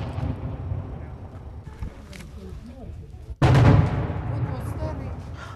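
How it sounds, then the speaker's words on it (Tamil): Artillery shelling in a city in eastern Ukraine: after a stretch of muffled background noise with some voices, one heavy blast booms out loudly and rumbles away. "நகர மையம் பீரங்கி குண்டு சத்தத்தால் அதிர்ந்தது."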